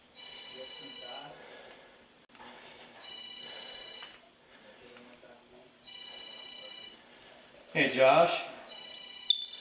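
A telephone rings in repeated electronic trilling bursts with short pauses between them, heard at moderate distance during a tense hostage situation, while someone speaks and there is a loud breathy noise near the end.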